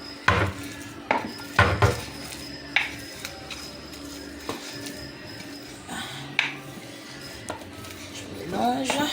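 A utensil mixes meatball mixture in a pot, giving scattered clinks, knocks and scrapes against the metal at an uneven rhythm, close by, with a faint background hum.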